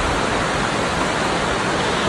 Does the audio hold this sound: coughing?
no